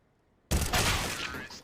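Gunfire in a tactical shooter video game, a sudden burst of shots that cuts in after silence and rattles on with crackling echoes.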